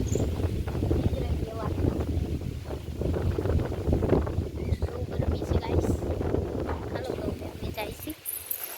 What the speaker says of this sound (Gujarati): ઠંડો ઠંડો એકદમ પવન આવે છે